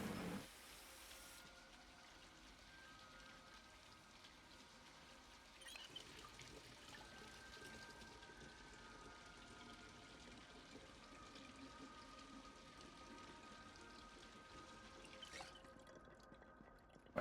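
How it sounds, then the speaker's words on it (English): Water trickling steadily into a canteen and a plastic bottle in the Project Zomboid survival game, a soft, continuous pouring stream heard alone and fairly quiet throughout. "we're going to fill our canteen in our plastic bottle."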